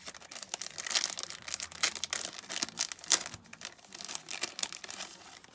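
Close, soft crinkling and rustling as a small pouch holding lace is opened, with irregular light crackles of packaging handled near the mic and no talking.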